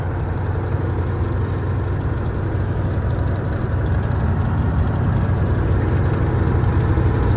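An MTZ-82 tractor engine runs steadily during spring sowing work, a continuous low, heavy diesel drone with an even rumble that stays loud and close, with no talking.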